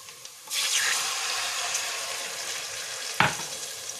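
A broadband hiss as half a cup of water hits a hot pan of frying ginger paste starts abruptly and keeps sizzling steadily, with a brief clatter near the end.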